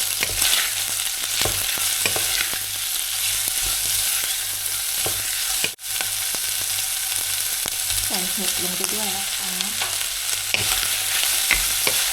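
Chili, garlic and onion stir-fry in a hot pan, a steady loud sizzle running throughout with scraping stirs and a brief pause partway, no talking.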